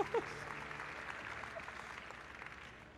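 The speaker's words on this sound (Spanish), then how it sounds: "démosle un aplauso a este varón" An audience applauds a man at a church gathering, a faint, diffuse spread of clapping that thins and fades over a few seconds, heard from some distance.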